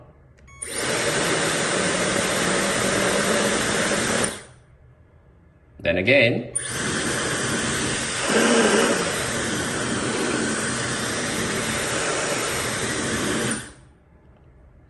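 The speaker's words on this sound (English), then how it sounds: "let's try the test with the premium hair dryer brand. Alright, switch it on." A premium-brand hair dryer blows with a steady, loud broadband whoosh for about four seconds, cuts off briefly, then runs again for roughly seven seconds before stopping, with a short spoken remark in the gap.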